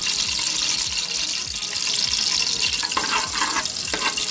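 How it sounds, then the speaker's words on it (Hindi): Boiled rice being strained in a kitchen, its cooking water pouring steadily into a sink with a continuous rushing splash and a few brief clatters near the end, close and fairly loud with no talking. "तो मैं इसे अब छान लेती हूँ।"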